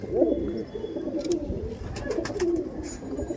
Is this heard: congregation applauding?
no